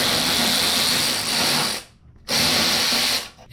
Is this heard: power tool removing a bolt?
yes